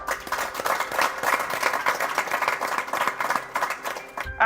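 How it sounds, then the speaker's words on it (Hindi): A studio audience claps at the close of a televised healthy-eating session, a dense patter of many hands sustained for several seconds at moderate volume, easing briefly near the end. "जोरदार तालियां बजाते हैं।"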